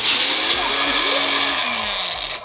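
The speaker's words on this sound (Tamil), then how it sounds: "சில்லி போட்டு நல்லா பேஸ்டாக அரைச்சி எடுத்துருவோம்" A kitchen mixer grinds red chillies into paste, a loud steady whirring drone that runs unbroken with a slight shifting whine.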